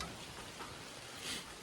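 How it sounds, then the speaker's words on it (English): Steady rain in Alaska, a soft broadband hiss of drops falling on surfaces, quiet and continuous with no voices. "And it's still raining."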